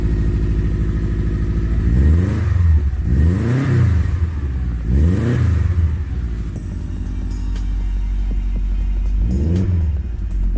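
A Subaru STI engine, running smoothly after a coil fix, revs up three times in quick throaty pulls, then settles to a steady idle before one more short blip. It sounds close and loud.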